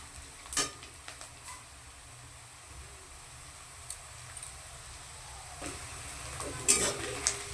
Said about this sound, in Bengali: তো পেঁয়াজটা ভাজা হতে থাক